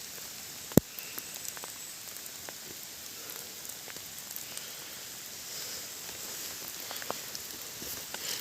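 Rain falling in a dark forest, a steady soft hiss with scattered drips and patters on leaves and one sharp close tap near the start, faint and continuous with no talking.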